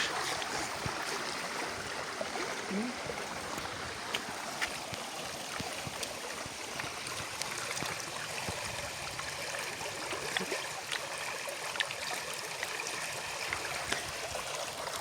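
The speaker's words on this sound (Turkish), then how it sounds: "Dere de muhteşem." A mountain stream near a campsite, a few kilometres up a hiking trail, flows with a steady rushing and trickling wash that stays even and unbroken throughout, with no voices.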